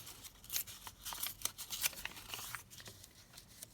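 Paper is torn by hand for a craft project in a quiet room: a quick series of soft rips and crinkles, faint and close, coming in uneven bursts.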